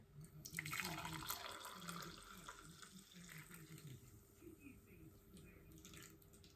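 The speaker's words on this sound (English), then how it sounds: "This, and I'm gonna pour it in." Hot chocolate poured into a Harry Potter butterbeer glass jug, a steady liquid stream splashing and trickling for several seconds, near and moderately quiet.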